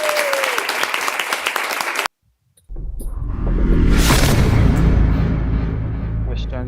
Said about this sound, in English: Let me clap for myself first.